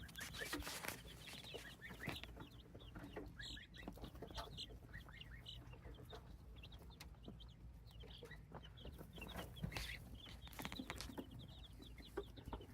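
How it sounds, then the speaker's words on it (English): A brooder full of thirty-two week-old baby chicks and a young gosling, giving steady overlapping high peeps and cheeps with occasional louder calls, continuous and close throughout. "there are 32 baby chicks in here"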